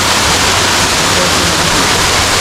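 A loud, steady roar of falling water fills everything, constant and broadband, like standing right beside a waterfall at Towing Falls.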